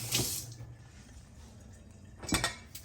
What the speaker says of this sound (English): And you got the sinks running.